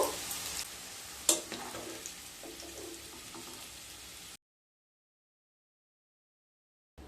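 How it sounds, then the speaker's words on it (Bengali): Potatoes frying in oil until light brown for a vegetarian soybean curry give a steady, moderate sizzle with a brief clatter partway through, then the sound cuts to silence. "আলুগুলোকে হালকা ব্রাউন কালার করে ভেজে নিয়েছি।"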